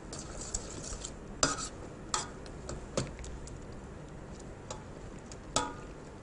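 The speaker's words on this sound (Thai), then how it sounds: "เราเคี่ยวไว้สักพักหนึ่งนะคะแต่ในขณะเคี่ยวเราก็ต้องคนนะคะ" Ham simmering in coconut milk is stirred in a pot, a few scattered utensil clicks and taps against the pot over a quiet low background, no talking.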